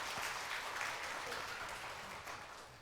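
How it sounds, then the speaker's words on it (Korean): Church congregation applauding during a Sunday worship service after a choir's hymn, a steady wash of clapping from many hands, fairly distant and even throughout. "우리 박수하겠습니다."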